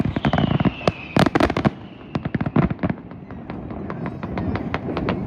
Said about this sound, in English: firecrackers going off absolutely at all hours